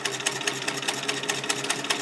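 Sewing machine stitching with a double needle through thick fabric, a fast, even mechanical rattle with regular clicking pulses, steady and close throughout.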